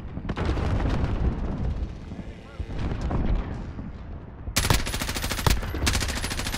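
A grenade blast and rapid gunfire in a shooter video game: loud booming rumble, then dense bursts of automatic fire close up near the end.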